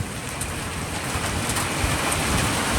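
Heavy rain pours in a dense, constant hiss, with scattered drops striking nearby surfaces and no voices over it.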